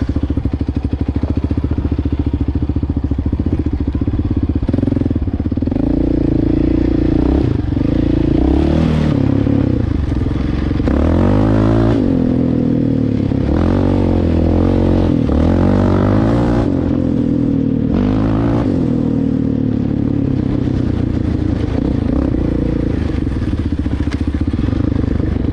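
A Yamaha Raptor 700R quad's engine and exhaust roar continuously while riding, loud and close, with throttle rises and falls, gear-change surges and clattering from the terrain throughout.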